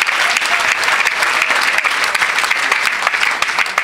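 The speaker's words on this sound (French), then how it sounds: "acclamons d'abord pour ça" Church congregation applauding steadily, a dense wash of clapping hands that stays loud and even throughout with no voices rising above it.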